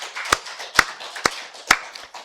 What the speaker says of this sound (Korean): 우리 박수 하나님께 영광 돌리겠습니다